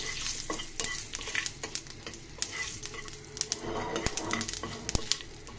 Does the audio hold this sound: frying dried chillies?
yes